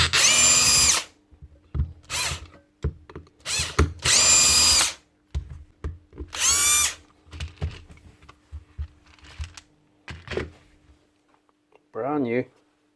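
A brand-new Bosch power drill with a factory fault runs in short, loud bursts of a second or less, separated by clicks, handling noises and gaps; someone talks between bursts.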